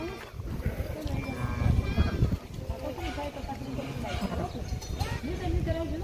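Small sheep and lambs bleating in a village setting during rain, several calls rising over steady background noise while people talk nearby throughout.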